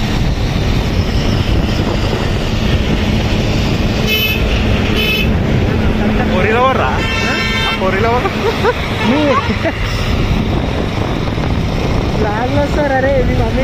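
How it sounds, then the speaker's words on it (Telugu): Steady roar of wind and road noise on a moving motorbike, loud and continuous, with a horn honking twice and someone talking over the rush. "ఇక్కడ బైక్ సౌండ్ ఎక్కువ వస్తుంది అందుకనే క్లారిటీ మిస్ అవుతుంది"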